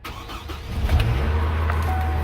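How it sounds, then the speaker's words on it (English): A 2005 Chevy Colorado engine cranks and catches, then settles into a steady idle hum, close and moderately loud, with no talking. "The car is start."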